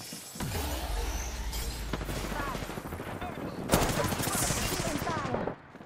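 Rapid automatic gunfire crackles through an Apex Legends firefight, with dense sustained bursts and a sharper loud volley partway through, running continuously with no talk over it.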